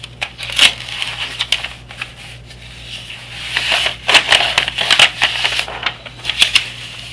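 A sheet of paper is handled and shuffled at a desk, close crisp rustles and crinkles coming in uneven bursts, loud and near, with no talking.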